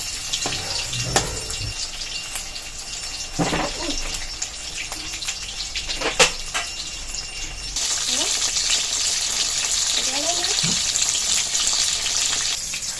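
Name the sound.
fish-stuffed pumpkin leaf fritters frying in oil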